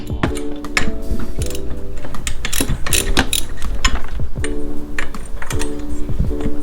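A ratchet wrench cracks loose the cylinder bolts while a 70cc big bore kit is fitted to an Eton engine, giving dense, fast ratcheting clicks in quick bursts, close and loud, with no talking.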